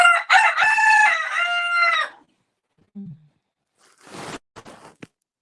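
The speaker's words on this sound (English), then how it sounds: "Oh, incoming bird song." A rooster crows loudly and close for about two seconds, a long harmonic call, followed by a brief low thump and some scattered rustling and clicking noises.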